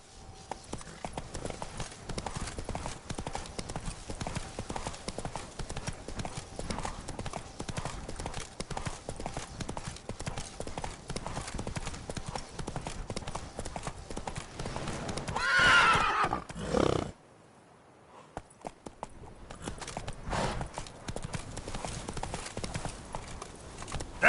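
Roach, a horse in The Witcher 3: Blood and Wine, gallops with rapid, steady hoofbeats and a whinny near the end before a brief lull, then the hooves resume.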